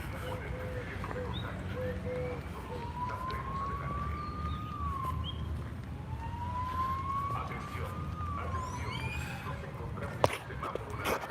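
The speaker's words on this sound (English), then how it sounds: "I'm gonna try to get out of earshot of that siren." A siren wails in rising and falling sweeps at a moderate distance, with traffic noise and faint chirps around it.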